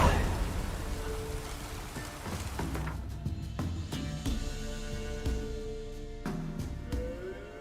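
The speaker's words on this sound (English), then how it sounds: "Rain." Steady rain falls in The Witcher 3 game world, a soft continuous patter with scattered sharper drops and taps over a low background wash.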